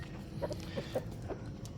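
Chickens in a coop giving a few soft, scattered clucks, faint and close, over a low background hum.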